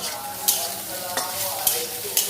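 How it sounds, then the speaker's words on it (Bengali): Onions sizzle in a pan with four sharp scraping strokes of stirring spaced evenly over a steady frying hiss. "আমি একটু এখন নাড়বো এদের এপিট ওপিট করে একটু ভাজা ভাজা করব"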